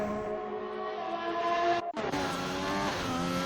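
An F1 race car on a flying lap in an Xbox racing game, its high-pitched engine whine rising steadily, briefly cutting out during a gear change, then climbing again with tire noise underneath.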